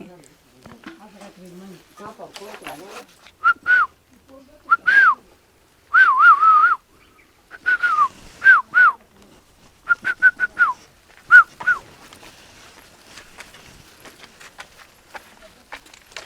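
Someone whistles a string of short, rising-and-falling tuneful phrases in bursts, with a pause between each, while people chat at a low level in a home.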